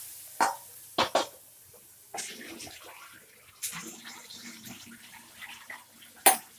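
A liquid masala mixture is poured into a pan and splashes in short bursts, a few quick sloshes and pattering drips at close range, with quiet pauses between.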